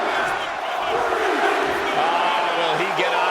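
Arena crowd noise from WWE 2K25 during a Last Man Standing wrestling match, a steady loud roar of cheering and shouts with voices rising through it, continuous throughout.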